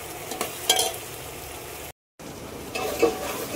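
Onion, tomato and ginger-garlic paste cook in a pan with a soft continuous sizzle and light stirring scrapes, close and fairly quiet, broken by a brief cut of silence midway.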